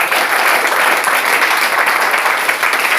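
A church congregation applauds steadily and loudly for about three seconds, a dense, even wash of clapping with no voices rising above it.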